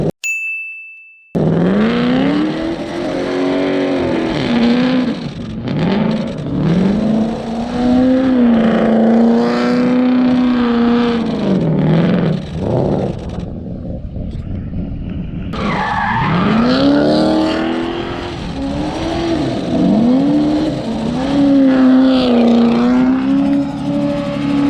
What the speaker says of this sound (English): just a couple of burnouts.